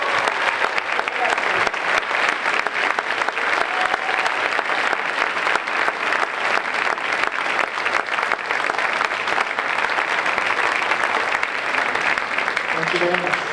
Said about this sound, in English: How about another round of applause for all of our seniors?